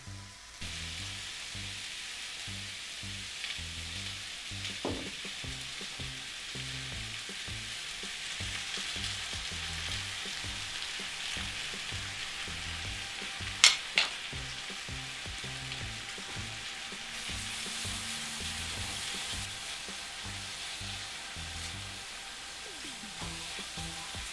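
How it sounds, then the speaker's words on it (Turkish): Oil sizzles and crackles steadily as thick black bean paste fries in a pan for jajangmyeon sauce, with a few sharp clinks of a utensil partway through. "2 yemek kaşığı yağ koyarak Fasulye ezmesini içine boşaltacağım ve kavurmaya başlayacağım"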